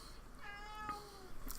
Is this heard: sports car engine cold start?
no